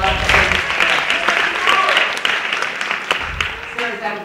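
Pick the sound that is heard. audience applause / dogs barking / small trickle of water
audience applause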